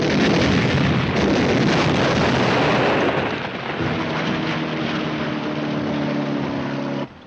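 A WW2 tank gun fires in a combat film, a heavy booming blast that rolls into a long rumbling roar, followed by a steady engine-like hum with tonal drone before cutting off abruptly.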